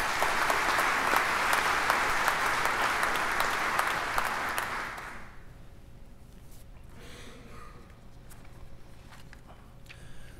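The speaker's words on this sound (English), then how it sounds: "Please give Congressman Harper a round of applause." Audience applause at the 2020 Mississippi governor's inauguration ceremony, a full, steady burst of clapping that fills the first half and then fades abruptly into quiet room tone.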